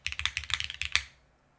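Typing on a Neo65 mechanical keyboard with a brass bottom: about a dozen crisp, close keystrokes in a quick, uneven burst, ending in a louder final clack, with no talking.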